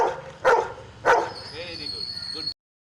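A dog gives two loud, close barks in quick succession, followed by softer whimpering yips, with a faint high whine running underneath until the sound cuts off abruptly.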